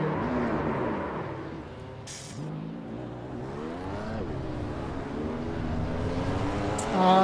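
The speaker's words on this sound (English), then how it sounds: "Yeah, I'm hearing the other cars." Race cars in the iRacing sim, BMW M2 racing at Winton, whine past with engine tones sweeping up and down in pitch, fairly close and continuous, with a louder swell near the end.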